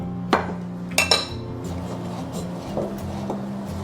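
Flour is stirred in a bowl as carrot juice is poured in, giving a few sharp utensil clinks against the bowl early on, then softer scraping and light taps, close and alone without talk.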